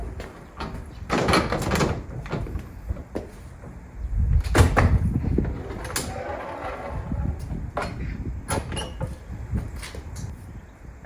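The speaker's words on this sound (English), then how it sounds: "let's open up the doors and see what this looks like" Doors of a small 1950s Swedish house garage are opened, bringing close creaks, knocks and a heavy thud midway, followed by scattered clunks and rattles.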